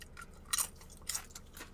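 A salty, crunchy Qdoba tortilla chip is bitten and chewed close up, making two sharp crunching bursts followed by softer chewing, with no talking.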